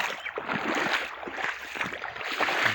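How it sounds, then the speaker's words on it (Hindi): A flowing river produces a steady, close rush of water with light gurgling and splashing, continuous and alone. "हम नदी पर पहुंच गए हैं।"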